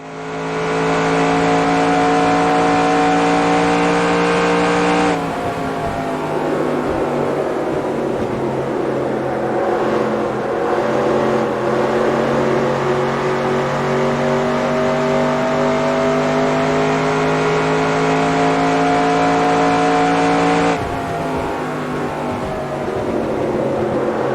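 Stock car engine from NASCAR Racing 2002 at Las Vegas Motor Speedway drones loudly and steadily at high revs, with a shift in engine pitch partway through and a return to the higher tone near the end, no talking.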